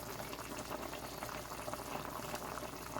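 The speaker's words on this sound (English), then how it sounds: "So you see my curry chicken is boiling." Jamaican-style curry chicken with carrots and Irish potato boiling in a pot, a steady, dense bubbling and simmering that stays even throughout, fairly quiet and close, with no talk.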